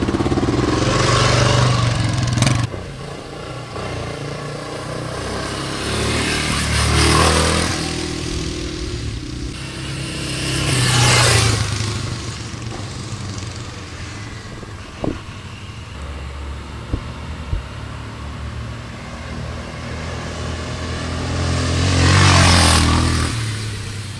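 A 1980 Honda XR500 motorcycle ridden on dirt, its engine rising and falling in several loud revving surges between quieter running stretches, close and without talk.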